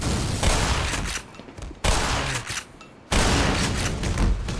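Explosions and bursts of gunfire in the Black Mesa shooter game, loud, dense blasts in three heavy waves separated by short near-silent gaps, with no talk over them.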